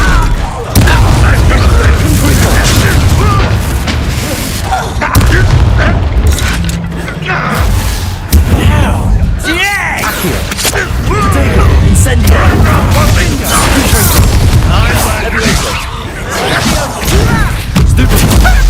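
Rapid spell blasts in Hogwarts Legacy, Confringo and Bombarda among them, a dense string of loud booms, crashes and thuds going on without letup, mixed with an energetic voice calling out over the combat.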